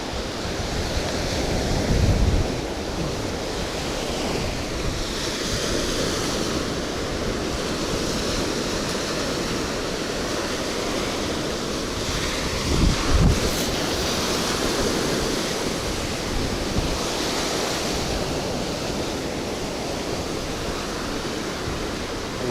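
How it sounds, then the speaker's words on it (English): Strong wind roars at a Florida seashore during fishing, a loud continuous blustery rush with surf beneath it and a few heavier gusts, no voices. "The wind is really catching that line right now."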